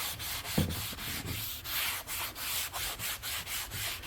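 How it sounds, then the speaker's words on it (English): Hand scuffing of a faded plastic car cowl before painting, a steady run of rhythmic back-and-forth sanding strokes, close and fairly quiet, with no talking. "Just going to give it a scuff just to open up the pores."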